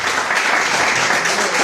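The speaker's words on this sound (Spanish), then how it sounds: "¿Cuánto le pueden dar un aplauso a la palabra del Señor," A church congregation at a Holy Week service breaks into loud, steady applause, a dense wash of clapping filling the whole moment with no one speaking.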